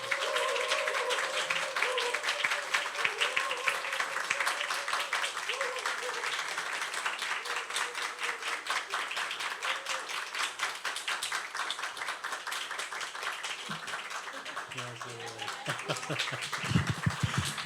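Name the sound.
congregation applauding in church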